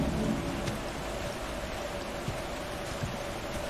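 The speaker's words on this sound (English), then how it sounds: "Whoa, it's raining now." Steady rain hisses in the Dark Deception Chapter 2 video game, a dense wash of falling drops near Agatha Elementary with no talk over it.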